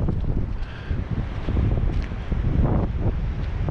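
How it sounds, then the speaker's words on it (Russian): Turbulent roar of the Terek, a swollen mountain river in flood from snowmelt, near the Upper Lars crossing, a steady loud rushing with wind buffeting the microphone throughout. "Да, хорошо шумит Терек, да?"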